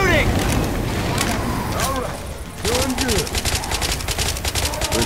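Rapid bursts of gunfire against the Tank in Left 4 Dead 2, loud and continuous over a dense rumbling backdrop, with players talking throughout.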